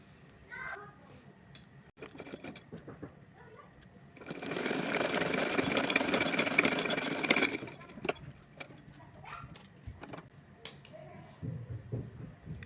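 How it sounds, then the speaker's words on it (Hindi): An electric sewing machine stitches a small Laddu Gopal dress in one steady, whirring run of about three seconds, framed by quieter handling sounds, faint background voices and a child's chatter. "तो चलिए सिलती हूँ और सिल के दिखा रही हूँ आपको"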